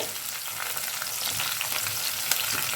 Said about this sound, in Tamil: வெங்காயம் வந்து நல்லா பொன்னிறமாக வதங்கி வந்துருச்சு